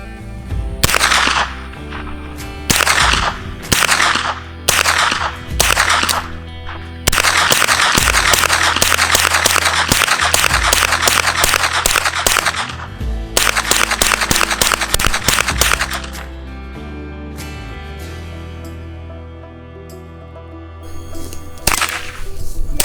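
Suppressed shots from a two-stamp gun ring out outdoors in loud sharp bursts: several single cracks, then a long sustained string of rapid fire, followed by a pause and a final shot.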